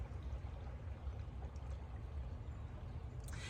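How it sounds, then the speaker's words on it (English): The Missouri River flowing past a parked van, a soft steady rushing wash of water, faint and even throughout with no voices. "It's nice to just sit here and hear the river flow."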